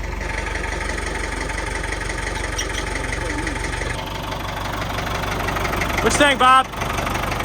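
A big backhoe engine runs steadily at a mid-pitched idle while helping pull a long-buried John Deere 440 out of the ground. Someone speaks briefly over it, and there is a short burst of louder mechanical noise near the end.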